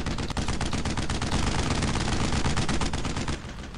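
Rapid, loud battlefield gunfire from Brothers in Arms: Road to Hill 30, a continuous rattle of machine-gun and rifle shots close by, with no talk over it.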